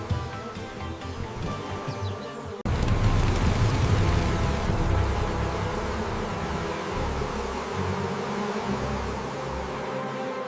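A bee swarm erupts into loud, dense buzzing as the queen takes flight from a farm beehive, a sudden jump in level after a quieter opening, then a steady thick drone that continues to the end with no talking.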